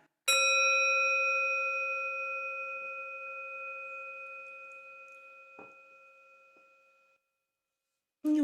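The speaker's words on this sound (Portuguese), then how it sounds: "ao ouvir o meu sininho, nós vamos iniciar." A small meditation bell is struck once, its clear ringing tone lingering and slowly fading for several seconds before a faint sound at the end.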